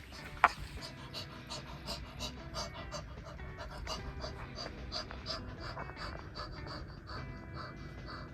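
A person imitates a dog's panting with rapid, rhythmic breathy huffs that continue steadily and close up throughout.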